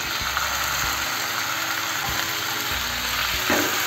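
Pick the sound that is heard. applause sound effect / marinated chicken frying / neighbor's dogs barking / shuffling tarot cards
marinated chicken frying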